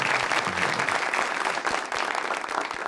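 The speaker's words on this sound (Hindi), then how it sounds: "जोरदार तालियां बजाइए" Steady, dense applause from an audience fills the whole moment, loud and continuous without pauses.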